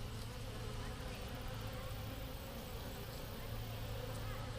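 Honey bees swarm around an open top bar hive, a dense, continuous droning buzz that stays even and fairly soft throughout.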